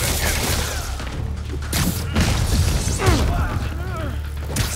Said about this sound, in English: Is that a minigun guy?